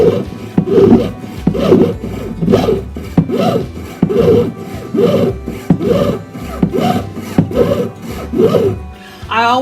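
A Green Lion hand saw cuts through wood in steady back-and-forth strokes, about a dozen rhythmic rasping passes, loud and close with no talking.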